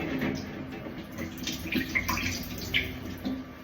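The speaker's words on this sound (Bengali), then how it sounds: "এই ছানাটাকে এখন সুন্দরভাবে পুটলির মতো করে রাখতে হবে যাতে জলগুলো ঝরে যায়" Water drains from freshly made chhana squeezed in a cloth bundle for date-palm jaggery sandesh, a close, continuous trickle and splash with small drips throughout.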